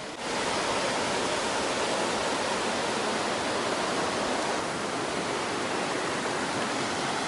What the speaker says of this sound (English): Big river down there.